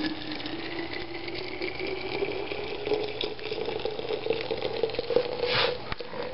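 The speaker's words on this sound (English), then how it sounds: "the water is boiled from the microwave, and I'm just going to fill up the thermos." Boiled water pours steadily into a thermos, its rising gurgling tone climbing as the container fills, close by and continuous with a small splash near the end.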